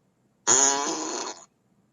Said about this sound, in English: Here comes a wet and squeaky fart.